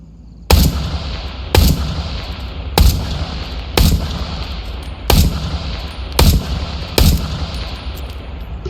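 Seven sharp pistol shots ring out at targets in the video game Into the Radius 2, loud and close, spaced about a second apart, each with a short echoing tail.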